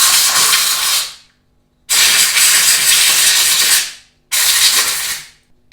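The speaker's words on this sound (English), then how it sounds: "this I'm going to go and blast with some clean air" Compressed air blasts a motorcycle carburetor clean in three loud, hissing bursts, each lasting over a second and cut off sharply, separated by short silent gaps.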